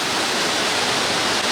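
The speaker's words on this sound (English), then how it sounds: "Several waterfalls have reportedly become active due to the heavy rains" Waterfall in full flow after heavy monsoon rains, a loud, dense and continuous roar of rushing water with no breaks, heard alone.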